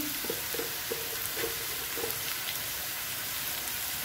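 Onions fry in a pan with turmeric, making a steady soft sizzle with faint scattered crackles throughout and no voices.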